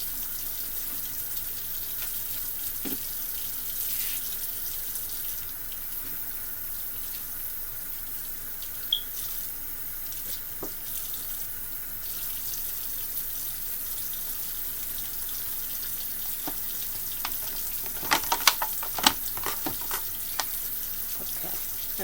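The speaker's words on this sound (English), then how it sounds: "Let me wash my hands, guys." A tap runs continuously into a kitchen sink while hands are washed beneath the stream, a soft steady gush with a few brief splashes and clinks near the end.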